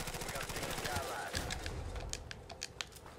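Rapid gunfire rattles in Call of Duty Modern Warfare, a quick automatic burst of sharp cracks followed by scattered single shots, fairly faint, with a voice speaking over part of it.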